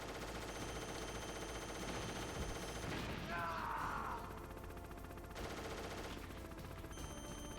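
Burst of video game gunfire from Metal Gear Solid, quick rapid shots over a busy game soundtrack at moderate level.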